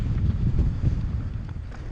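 Wind gusts straight into the microphone outdoors at a lakeside bike park trail, a low, loud rumbling buffet that runs through the whole short moment with no talk.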